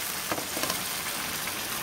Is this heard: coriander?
yes